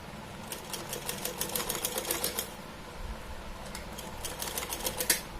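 A sewing machine stitches a small Laddu Gopal summer dress in quick, rhythmic bursts of rapid needle clatter. Two runs are separated by a brief pause, close and moderately loud.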